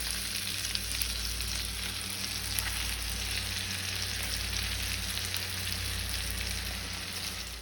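Garlic and honey sizzling in a frying pan for a honey garlic glazed salmon, a steady, fairly quiet crackling fry over a low hum, continuous with no talking.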